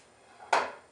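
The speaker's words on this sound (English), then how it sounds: "you just want to spray the bottom here" An aerosol can of cooking spray greases the bottom of a pan in a single short, close hiss that starts abruptly and fades over about half a second.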